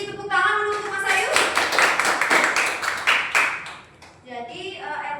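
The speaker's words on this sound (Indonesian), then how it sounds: "Beri tepuk tangan dulu untuk Mas Ayu." A classroom of students claps for a few seconds in a burst of dense, close applause, with a teacher's voice speaking before and after it.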